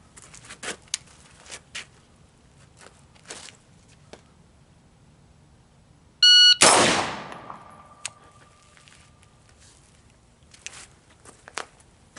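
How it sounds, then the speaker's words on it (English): A single loud AR-15 rifle shot cracks out near the middle, with a long decaying report after it, set among faint scattered clicks and shuffling. "AR-15, single shot to the body."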